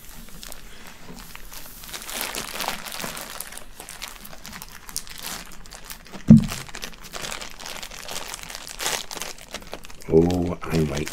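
A plastic bag crinkles and rustles close by in irregular bursts, with a few sharper crackles and a brief voice near the end.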